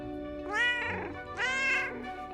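A cat meows twice in quick succession, drawn-out rising and falling cries close to the listener, clear and alone with a low steady background hum.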